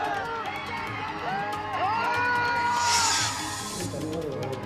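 A crowd gathered in the rain at Pankaja Munde's political rally, a distant, fairly faint mass of overlapping voices with scattered shouts and brief whoops rising and falling.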